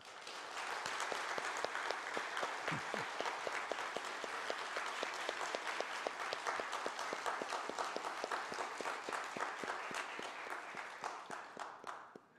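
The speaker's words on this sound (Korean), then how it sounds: "우리 환영의 박수 한번 하겠습니다" A Korean church congregation at Sunday worship gives a welcoming round of applause, many hands clapping in a fairly even, rhythmic stream that stays moderately loud throughout and fades at the close.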